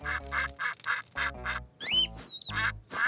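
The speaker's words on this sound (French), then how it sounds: "Oh, les canards sont de retour." Cartoon ducks quack in a quick run of loud, nasal, evenly spaced calls, with a brief squeaky chirping midway through.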